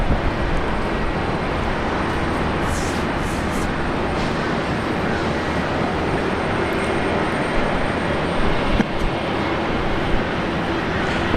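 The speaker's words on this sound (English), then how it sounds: "we've got Jetstar 562 coming in from Melbourne very shortly on 19 left" Jetstar flight 562, an airliner in from Melbourne, approaching to land on runway 19 left at Brisbane Airport; a steady, loud broadband engine roar fills the whole stretch without letting up.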